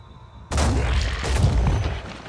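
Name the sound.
auto cannon firing in video game Phoenix Point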